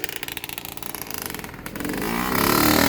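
A Yamaha two-stroke dirt bike engine idles with a choppy, pulsing putter and then revs up into a loud, rising, continuous buzz, close by, with no voices.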